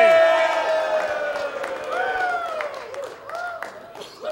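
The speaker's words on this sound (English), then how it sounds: "the crowd kind of cheers for her" Wrestling crowd cheering and clapping for Miss Hana at a live indoor show, a loud wash of applause with rising whoops and shouted chants, voices close and overlapping.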